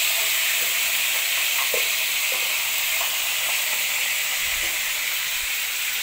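Chicken wings frying in a pan for spicy wings, a steady, close, dense sizzle and crackle with a few small pops and stirring knocks, with no voices over it.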